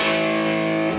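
A distorted amplifier channel sustains a loud, steady, buzzy tone that holds for about a second before fading slightly at the end.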